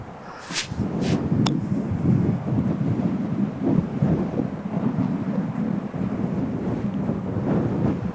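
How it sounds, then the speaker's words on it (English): Strong wind buffets the microphone on a windswept golf course, a loud continuous low rumble with a couple of brief sharp knocks early on. "that's just how strong the wind is"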